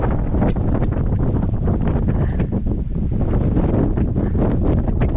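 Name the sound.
Antarctic gale blowing, wind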